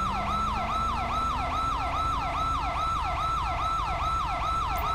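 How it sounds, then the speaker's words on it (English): Police car siren in the GTA V LSPDFR mod, a loud, continuous wailing yelp cycling rapidly up and down at a steady rhythm for the whole stretch, with faint engine drone beneath. "Now let's go turn off that siren"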